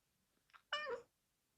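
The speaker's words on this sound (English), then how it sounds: "You are one annoying little kitty." A pet cat meows once, close and fairly loud, in a quiet indoor room, preceded by a softer short chirp.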